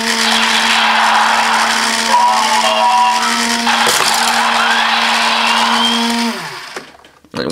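A Tomica DX Jet Falcon toy's battery motor runs with a loud, steady, high whine and a brief rattle midway, then spins down and cuts off near the end, heard close up with no voices.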